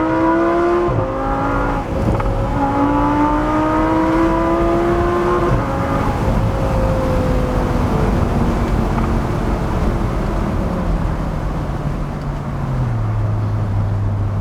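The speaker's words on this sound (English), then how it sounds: "there's nothing like a 10-cylinder car with a modified exhaust" An original Audi R8 V10 Spyder with a modified exhaust revs hard and climbs through the gears, the loud ten-cylinder engine rising in pitch, dropping at shifts and then settling into a deep, steady drone.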